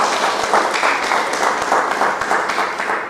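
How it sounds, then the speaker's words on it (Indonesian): An audience at a multi-level marketing meeting gives a short round of loud, dense applause for a speaker, steady throughout and easing slightly at the end. "Kasih tepuk tangan dulu buat Pak Purwo yang luar biasa."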